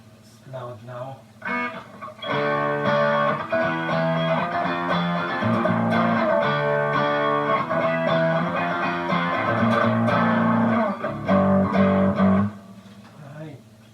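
Electric guitar played through a Boss DS-1 distortion pedal with the drive turned fully up, a loud, sustained stream of thick distorted chords and notes for most of the stretch, with a few quieter picked notes at the start and end.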